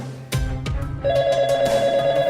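A telephone rings with a steady electronic trill, loud and close, following a couple of sharp knocks at the start.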